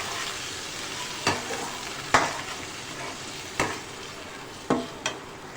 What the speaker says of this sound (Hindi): साथ ही इसके अंदर हम पहले इसको 1 से 2 मिनट इसको फ्राई कर लेते हैं टमाटर को।